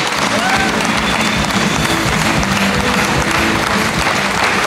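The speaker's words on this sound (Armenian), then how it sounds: "Ծափարեք" Loud, continuous applause from an audience fills the whole stretch, a dense wash of clapping with crowd noise and a few voices mixed in.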